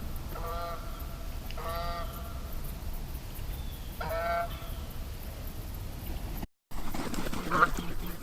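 A wild goose honks while flying in over a duck hunting spread on water. Three short bursts of nasal honks come at moderate distance over a steady background hiss, then a brief cut and quieter ambience.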